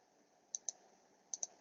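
A computer mouse gives two pairs of sharp, quick clicks over a faint steady hiss while points are placed with a mesh tool in graphics software; no one speaks.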